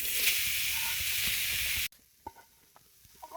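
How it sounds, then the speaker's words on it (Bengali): Grated coconut cooking in a wok gives a loud, close sizzle that cuts off abruptly, followed by quiet, scattered stirring knocks. "কড়াই এখন দিয়ে দিব নারিকেল কুড়ানো"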